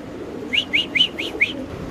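A pigeon, a racing breed held in the hand, gives five short, bright chirping calls in an even rhythm, close and clear over a quiet background hum.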